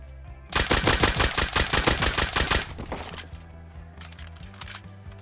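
Rapid burst of nail gun shots in the survival game Rust, fired in a fast, loud rhythmic volley for about two seconds, then fading into quieter ambient game noise.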